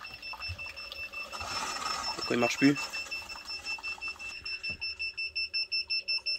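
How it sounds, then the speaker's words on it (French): A power converter in alarm gives a steady high electronic tone with a regular rapid pulsing beep building toward the end, while a nearby voice talks over it. "mon convertisseur il est en alarme"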